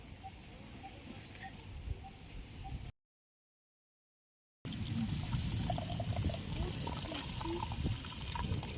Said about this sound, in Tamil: அடுத்து வந்து நம்ம புளி தண்ணி சேர்த்துக்கலாம்